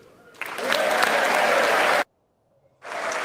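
Members of the U.S. Congress applaud King Charles III in the chamber: a dense, loud burst of clapping lasting over a second, an abrupt cut to silence, then the clapping resumes.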